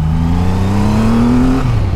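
A Kawasaki Ninja H2 motorcycle engine revs close by, its smooth whirring note climbing steadily in pitch before dropping off, loud and continuous with no talking.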